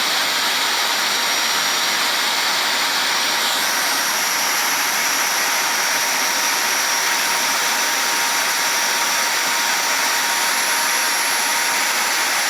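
A power tool's electric motor running on 220V and sparking at the motor, giving a steady, loud, high-pitched whine that holds unbroken throughout with no talking.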